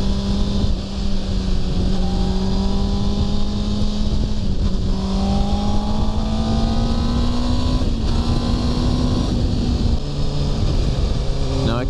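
A Honda CBR600RR motorcycle engine being tuned with a DJ AutoTune drones loudly while riding, its pitch climbing slowly and dipping at a few gear changes, with wind noise running throughout.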